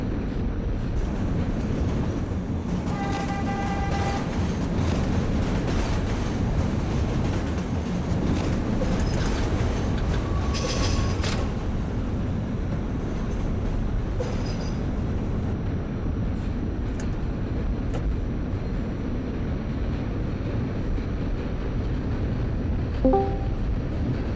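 An R68A subway train in the OpenBVE simulator runs along the track with a constant rumbling roll and rhythmic wheel clatter, with a few brief tonal beeps and squeals over the steady noise.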